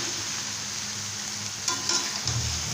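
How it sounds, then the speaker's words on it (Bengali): Chopped pointed gourd sizzles steadily in a hot pan, with a few soft scraping stirs near the end and no talking. "পটলটা দেওয়ার পরে এখন এভাবে একটু নাড়াচাড়া করে নিতে হবে।"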